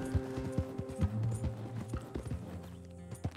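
Horse hooves clip-clop in Red Dead Redemption 2, a steady run of close, crisp hoofbeats over a low game-music bed, with a faint whinny mixed in.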